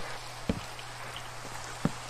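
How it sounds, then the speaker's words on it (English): Rain in the video game Minecraft patters softly and steadily, with a couple of sharper distinct drop-like taps standing out. "And it's fucking raining."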